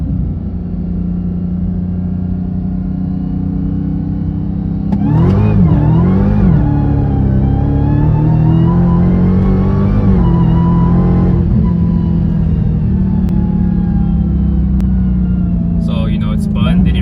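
A 2021 Dodge Charger Hellcat Redeye widebody on Toyo R888R tires idles with a deep rumble, then launches hard in first gear from 4,000 RPM, the supercharged V8 roaring up through the revs before easing off near the end.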